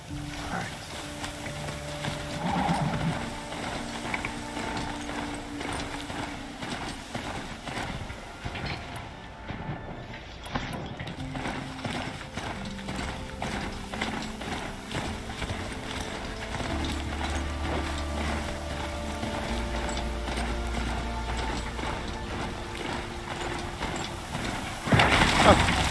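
A Strider machine mount in the video game Horizon Zero Dawn trots along with steady, rhythmic hoofbeats throughout, under game music and ambient sound, with a louder burst near the end.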